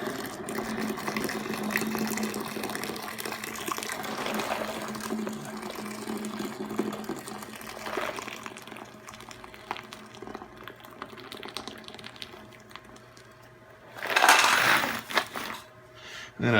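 Brass cartridge cases and stainless steel tumbling media rinsed with water, a steady wet sloshing and rattling that ends in a louder splashing burst near the end.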